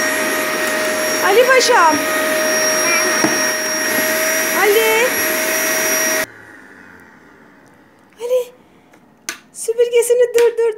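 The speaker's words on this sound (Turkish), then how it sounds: "Biraz da benim süpürgemle devam edecekmiş" A real electric household vacuum cleaner runs loud and steady for about six seconds under a voice, then cuts out, leaving quieter talk and bursts of a child's speech.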